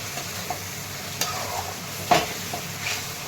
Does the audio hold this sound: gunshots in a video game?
no